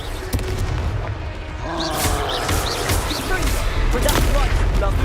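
Confringo fire-blast spells exploding in Hogwarts Legacy, heard as a steady run of booming blasts and crackling impacts over dense battle noise, with a voice shouting during the fight.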